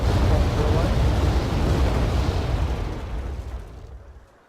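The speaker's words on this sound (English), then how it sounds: "It's got a couple of tornadoes coming in for a bombing run." Heavy explosions from a bombing run by Tornado jets in the Wargame AirLand Battle strategy game, a sustained loud rumbling roar that slowly fades over several seconds, with no talk over it.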